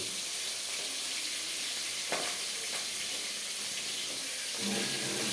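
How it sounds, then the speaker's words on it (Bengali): Pieces of poa fish frying in oil, a soft steady sizzle with a few light clinks of utensils, fairly quiet and without voices. "অন্যদিকে দেখো বাকি মাছগুলো ভাজা হচ্ছে"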